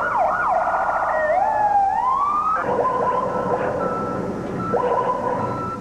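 Ambulance sirens wail, rising and falling and overlapping as the vehicles pass, shifting into a rapid yelping pattern, loud and close amid traffic noise, at the 1993 World Trade Center bombing.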